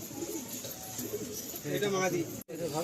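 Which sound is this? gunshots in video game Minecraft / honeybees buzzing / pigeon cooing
pigeon cooing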